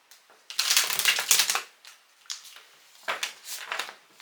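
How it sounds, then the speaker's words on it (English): Tarot cards are shuffled by hand in a few quick riffling bursts, crisp papery flutters close to the listener separated by short pauses, with no voice over them. "just do a couple more shuffles."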